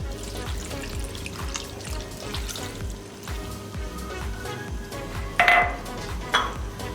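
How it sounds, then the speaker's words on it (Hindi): Water is poured from a glass into a metal pot of mustard-green saag with bathua, a splashy trickling pour mixed with clinks and taps of pans and utensils, close and fairly quiet with no talk. "एक गिलास पानी डालेंगे।"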